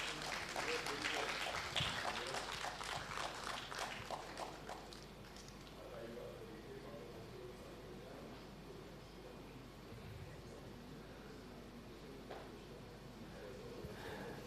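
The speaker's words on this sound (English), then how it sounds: "Round of applause." A conference audience in Nagpur applauds, a busy patter of clapping at the start that thins into a softer, scattered clatter, with voices murmuring around it.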